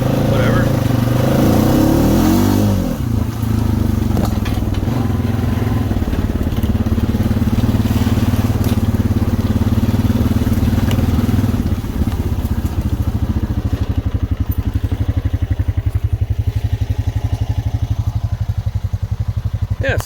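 A 2016 Honda Rancher IRS ATV on 28-inch System 3 XTR 370 tires rides with a loud, steady engine drone and rumble, close and continuous, with clattering over rough ground.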